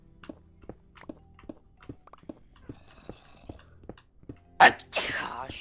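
A single loud human sneeze bursts out near the end, after a run of soft, regular clicking steps, and is followed by a lingering breathy rush.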